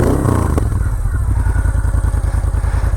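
A 2010 Moto Guzzi V7 Cafe motorcycle engine gets a brief rev, a quick surge of exhaust noise that settles back into a loud, deep, throbbing idle close by.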